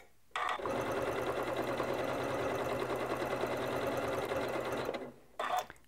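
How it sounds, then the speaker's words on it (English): A Janome MC9400 sewing machine runs a triple stitch, starting with a lock stitch, in one loud, close, steady burst of rapid stitching for about five seconds, then stops and gives a short final whir. "Now it's going to give me a lock stitch at the first, and then we're going to go along."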